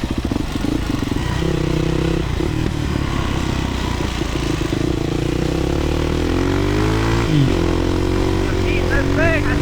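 A big-bore YZ 400 motorcycle engine running steadily and loud, with a droning, slightly varying pitch and a brief rev near the end, close by on a supermoto track.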